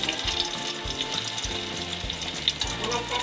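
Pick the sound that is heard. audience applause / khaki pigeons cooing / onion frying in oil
onion frying in oil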